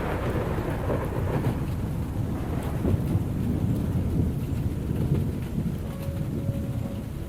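Steady, heavy rain pours outside open bedroom windows near pines and moss, with deep rolling thunder rumbling underneath throughout, loud and continuous with no voices.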